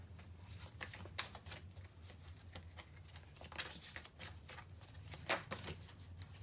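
Tarot cards being handled and shuffled, a run of soft papery riffles and flicks, close and fairly quiet, with a few sharper snaps, and no talking.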